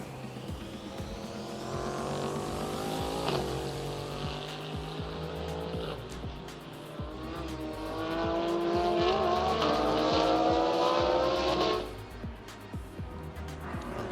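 GT race cars, among them a Bentley and a Lamborghini, racing at Sepang International Circuit in Malaysia: a loud, continuous roar of engines, with one car passing close around three seconds and the engine note climbing hard before easing off near the end.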